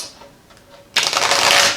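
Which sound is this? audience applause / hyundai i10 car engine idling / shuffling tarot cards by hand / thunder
shuffling tarot cards by hand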